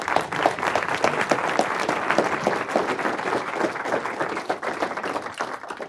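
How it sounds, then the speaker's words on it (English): A conference audience applauds a departing panel at a manufacturing summit, a full room of sustained, even clapping with crisp individual claps showing through, steady and fairly loud throughout. "invite you to give them a round of applause"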